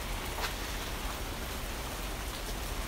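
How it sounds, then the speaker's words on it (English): Steady, dense rain falling outdoors in Los Angeles, a continuous close hiss with faint scattered drops and no voices. "Can you hear it? This is unheard of rain in Los Angeles."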